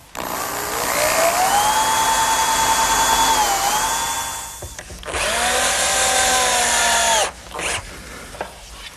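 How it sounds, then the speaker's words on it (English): A power drill whines up to speed, driving drywall screws into a wooden table leg in two long runs separated by a brief pause, loud and close with a rising motor pitch. "pre-drill and then attach the leg with drywall screws"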